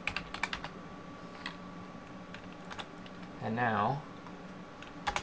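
Keystrokes on a computer keyboard while editing a file in Mac OS X Snow Leopard, scattered sharp clicks at the start and end around a brief stretch of speech, with a faint steady electrical hum underneath.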